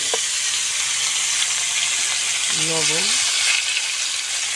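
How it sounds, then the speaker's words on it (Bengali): Cauliflower and potato pieces frying together in leftover fish-frying oil in a village Bengali kitchen, giving a steady close hiss of sizzling throughout, with a brief spoken word partway in. "ফুলকপি আর আলুটা আমি একসঙ্গে মাছ ভাজা তেলের ভেতরে দিয়ে দেবো,"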